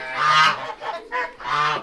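Farm geese honk loudly and close by in winter, three or four harsh nasal calls in quick succession with brief gaps between them.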